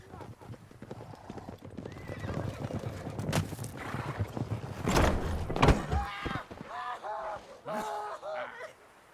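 Several horses clip-clop closer in a Witcher 3 game scene, hooves drumming steadily beneath loud background game sounds, with a whinny and people talking over it.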